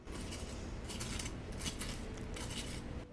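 Crisp crackling and crunching as a knife cuts through the crusty crumb-topped surface of a baked cherry pie, close and continuous for a few seconds.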